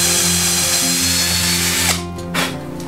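A power drill driving screws into the wood of a bench whirs steadily under load for about two seconds, then stops briefly before a short second burst; close and loud, with no talking.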